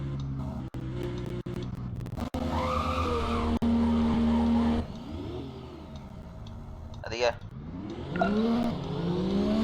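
Car fitted with a Titan engine racing in the Roblox game Driving Empire, with tires skidding and squealing and the engine revving loudly and continuously while people talk over it.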